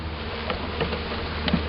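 Honey bees buzz at a hive among blooming pear trees and dandelions, a faint steady drone with a few brief nearer passes standing out.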